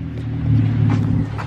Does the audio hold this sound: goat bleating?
no